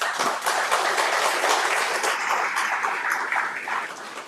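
Audience applause fills a territorial governor's final State of the Territory address, a dense, steady wash of many hands clapping throughout, loud and sustained with no voices over it.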